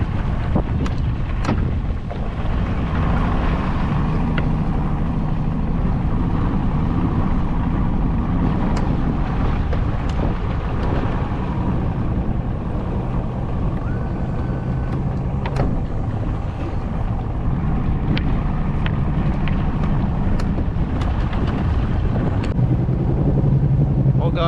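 Continuous low rumble of a Yamaha 250 HPDI outboard motorboat engine running in a shallow canal, mixed with wind and water noise; a voice speaks intermittently over it.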